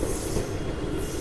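The Krishna Express passenger train rolls along after leaving Warangal in rain, a loud steady rumble of wheels on rail heard from on board, continuous and without talk.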